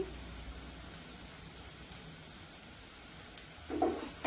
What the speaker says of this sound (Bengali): পেঁয়াজটা একটু লালচে লালচে করে 1 মিনিট ভেজে নিই।